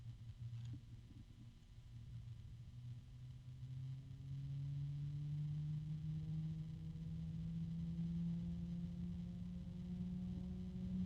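A PC case fan runs at low speed with a quiet, steady low hum that swells slightly and rises gently in pitch partway through, with no talk over it.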